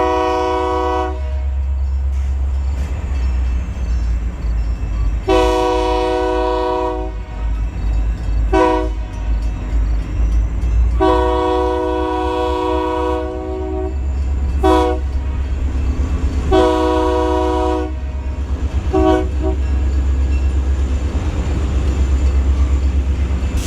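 A Great Lakes Central train rolls through a Michigan highway railroad crossing, its loud horn blowing in the long-long-short-long pattern over a constant heavy rumble of wheels and engine, with no voices.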